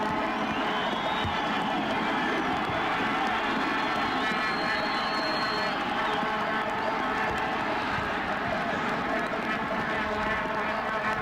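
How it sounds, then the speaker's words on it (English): A modest but loud football crowd at the Coliseum during the 2000 Gold Cup match between Canada and Colombia, a steady wash of crowd noise and chatter with a faint whistle-like tone rising briefly near the start. "Hardly sizable, but very audible crowd at the Coliseum."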